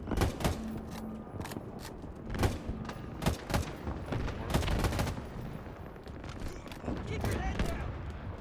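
Rapid automatic gunfire in a PC video game, bursts of shots crackling and booming in uneven rhythm throughout, loud and close, with a voice talking over parts of it.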